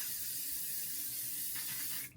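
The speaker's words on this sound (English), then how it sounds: "spray an aerosol can like right at your face" A steady aerosol makeup setting spray hisses continuously at close range for about two seconds, then cuts off abruptly.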